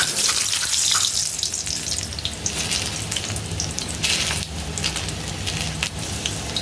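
Potatoes fry in a hot wok (kadai) for a biryani with a continuous close hiss and crackle of sizzling oil, loud and steady throughout.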